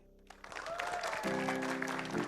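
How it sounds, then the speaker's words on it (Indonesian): A studio audience at an Indonesian preaching competition show applauds a contestant, the clapping swelling quickly and holding as a dense, sustained burst with music playing underneath. "Kita kasih tepuk tangan dulu dong untuk Rizky Cicalengka ya."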